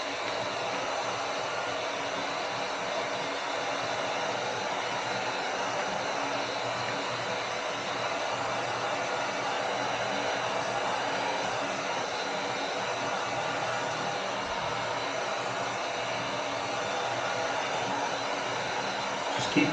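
Heat gun blowing hot air over vinyl wrap on a Triumph Street Triple RS motorcycle belly pan, a steady, close, loud rushing roar that runs unbroken for about twenty seconds.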